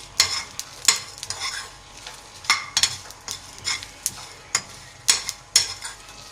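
Chaat masala spices frying in a pan, a hissing sizzle broken by repeated spatula scrapes and clinks against the metal every half second or so, close and unaccompanied by speech.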